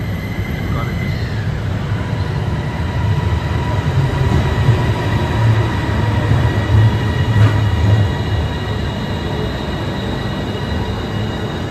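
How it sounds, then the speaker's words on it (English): A Suvarnabhumi airport rail link train approaches in Bangkok, a steady loud rumble of wheels on track with faint squealing, continuous and fairly close, while people talk at times. "Train is approaching the back."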